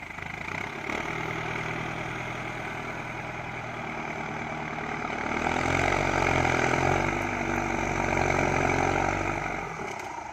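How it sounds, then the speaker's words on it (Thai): Steady close diesel idle from a Ford 7610 tractor with an air-conditioned cab. The low rumble swells slightly louder midway and runs continuously with no talking. "เดี๋ยวพาไปชมรถไถฟอร์ดครับ"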